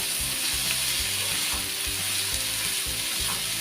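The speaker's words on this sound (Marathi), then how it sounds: "ह्या भाज्या आहेत ना मस्त अशा तेलावर ना परतवून घ्यायच्या।" Mixed vegetables, including cluster beans and okra, sautéed in hot oil, a dense, steady close sizzle with rhythmic scraping and stirring thumps of a utensil in the pan, no talking.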